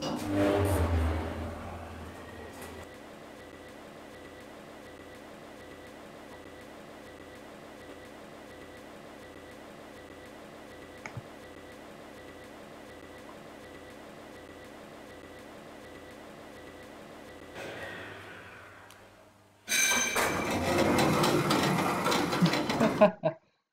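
A 1980s Gen 2 traction elevator in a car park runs with a faint, steady mechanical hum and rhythmic whirring for a long stretch, followed by a louder burst of noise near the end.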